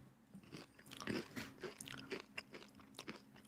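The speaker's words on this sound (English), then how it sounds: "You're chewing?" A person chews crunchy food right up against a microphone during a livestream mic test, making a quick series of close, wet bites and crunches with no one talking.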